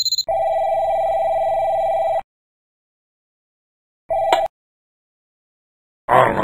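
A cartoon office telephone rings with a bright electronic trill, first one long ring, then a short burst after a pause, and it ends with a sudden noisy clatter.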